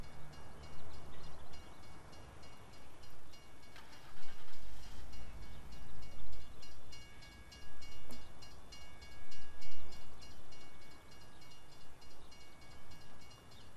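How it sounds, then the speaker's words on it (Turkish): A steam-era train in the Mafia video game approaches slowly, its steady rumbling and clattering filling the background with a dense, continuous mechanical roar that pulses slightly as it draws near. "Treni salıyorlar, bakalım geliyor."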